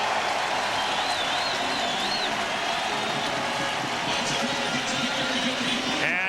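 Hamilton home crowd roaring at a 1996 CFL football game against the Edmonton Eskimos, a dense sustained cheer with whistles, loud and continuous, under a commentator's voice.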